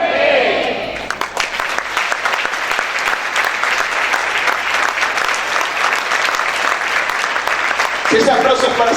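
A church congregation claps loudly and steadily during a sermon, a dense sustained wash of applause filling nearly the whole stretch before easing near the end.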